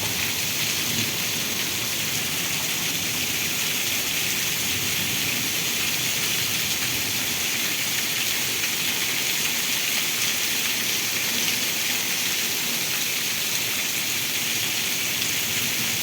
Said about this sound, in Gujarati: એટલો વરસાદ પડ્યો ઘડીકમાં.